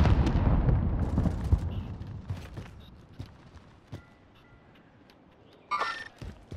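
A rocket launcher explodes in the video game Call of Duty: Modern Warfare. One loud, heavy blast rumbles and slowly fades, and scattered sharp reports follow, with a brief burst of gunfire near the end.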